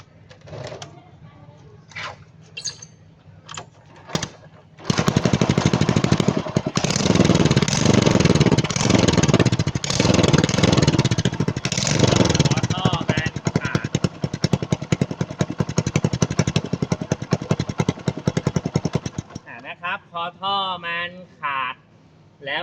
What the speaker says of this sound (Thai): ให้ฟังเสียงท่อไอเสียมันรั่ว